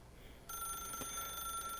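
A telephone rings in The Stanley Parable video game, a steady electronic trill that starts abruptly after a short quiet lead-in and keeps going without a break.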